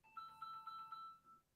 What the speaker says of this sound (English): I am, for some reason, getting a phone call, and it is disrupting everything.